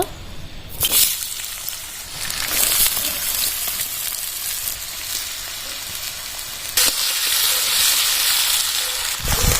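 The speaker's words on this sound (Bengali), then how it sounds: "আলুগুলো এবার তেলে ছেড়ে দেব" Potatoes dropped into hot oil in a wok sizzle and hiss steadily in a home kitchen for bengali pumpkin and egg cooking, with loud bursts at the start and again near the end.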